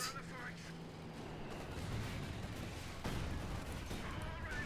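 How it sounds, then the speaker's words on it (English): Artillery smoke shells land in a Company of Heroes 2 battle, low dull booms and rumbling impacts under a steady bed of distant gunfire, with a commentator talking over the action. "Another smoke shell there. He's just chucking them out."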